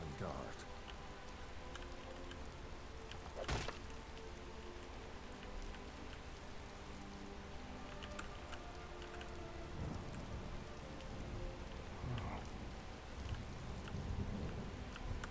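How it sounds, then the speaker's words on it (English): Steady rain falls in the video game Skyrim, a continuous hiss of drops on surfaces with a few sharper impacts and a distant thunder-like rumble, fairly quiet throughout. "Raining again. Seems like it's always raining for me."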